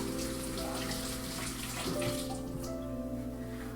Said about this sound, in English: wash your hands off